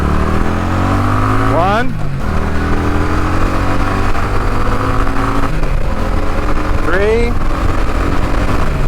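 A cruiser motorcycle, an Indian Chief or Kawasaki Drifter, pulls away from first and accelerates through the gears with loud, rising engine sweeps at two shifts over steady riding roar, while a rider talks over the noise.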